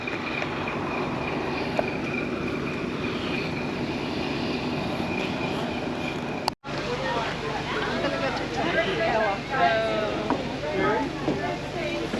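A heritage train rolls on the rails at Railtown 1897 State Park in Jamestown, a steady close rumble with a sharp break partway through, while people talk over the latter part.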